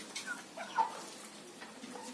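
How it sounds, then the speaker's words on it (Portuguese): Chickens clucking softly as they are fed grain on a farm, faint scattered calls over a low background, heard a little distant with no talk. "Agora eu vou colocar para outras galinhas, para vocês verem que elas gostam, elas adoram."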